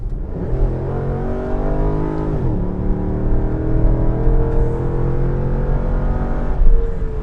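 A Chevrolet SS sedan's engine is revved up and held, its loud, close, rising drone climbing in pitch, dropping briefly, then sustaining before easing off.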